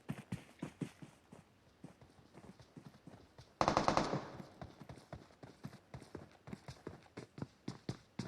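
Rapid gunfire in a competitive team scrim match of a shooter video game, with repeated sharp shots in quick rhythmic bursts and one louder, denser volley partway through, fairly quiet overall.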